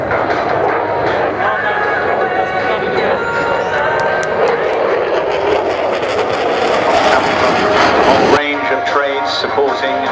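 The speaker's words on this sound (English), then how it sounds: "there's massive burners just lighting up the sky" Jet aircraft with afterburners lit at a seaside air show, producing a loud, continuous roaring rumble that holds steady for about eight seconds before cutting to quieter background noise.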